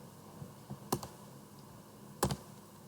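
Two pairs of sharp computer mouse clicks, each a quick double snap close up, sound as a file is opened in Microsoft Word, with a steady low room hiss underneath.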